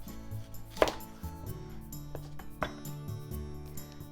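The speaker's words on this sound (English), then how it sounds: "let's slice the onion" A knife slices through an onion on a cutting board, giving a few soft cuts with two sharper knocks of the blade against the board, heard close and fairly quiet.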